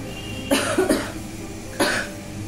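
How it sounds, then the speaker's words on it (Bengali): A person who is ill with a high fever gives a suppressed cough, two quick muffled bursts close together followed by a single one a moment later, close and fairly soft, with no talking. "চাপা একটা কাশি"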